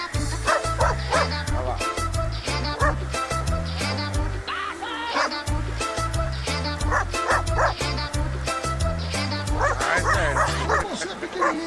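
A dog barks and yips rapidly at a motorcyclist, loud and close throughout, over a steady rhythmic low thumping.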